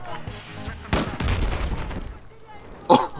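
Battlefield 4 gunfire and explosive bursts from an online match: a sharp loud crack near the start, a dense rumbling stretch of shots, then another hard bang near the end, mixed with game noise.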